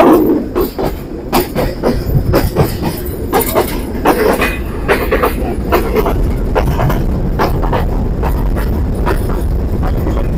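Intercity Chitra Express train rolling through Paksey railway station on the Dhaka–Khulna route at night, a loud, steady rumble with rhythmic wheel clatter over rail joints and occasional squeal, continuous throughout.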